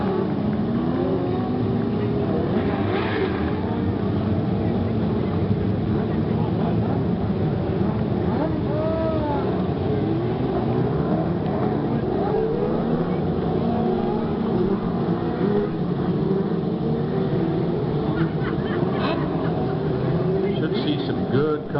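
A pack of race cars laps a track under caution before a single-file restart, their engines a continuous, overlapping drone that rises and falls as they pass, loud and unbroken throughout.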